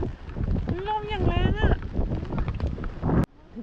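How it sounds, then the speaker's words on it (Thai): Strong wind buffets and roars across an outdoor microphone, continuous and loud, with people talking through it until it cuts off sharply near the end. "โอ้ย ลมแรง จับหมวกไว้"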